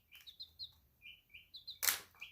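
Small pet chicks peep in a quick series of thin, high chirps, close and fairly quiet, with a brief louder rustling burst near the end.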